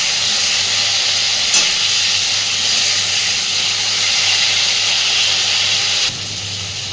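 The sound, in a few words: frying eggplant in oil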